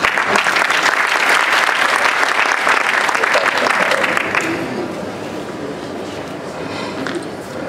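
Sustained applause from a meeting audience fills the room, loud and dense for about four seconds, then thins into lighter scattered clapping and murmur.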